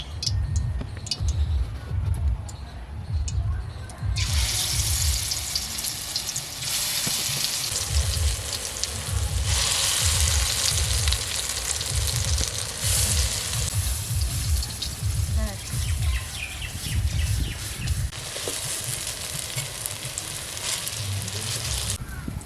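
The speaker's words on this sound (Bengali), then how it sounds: "কড়া গরম হয়ে গেছে তেল দেব এর একে একে বড়া দেবো" Lentil and palta leaf fritters fry in hot oil with a broad, surging sizzle that swells as each batch goes in, alongside low clatter and some nearby voices.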